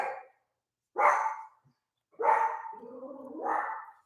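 A dog, agitated by a pool worker outside, lets out three loud, close barks with pauses between them, the last one stretching into a longer, whining yowl.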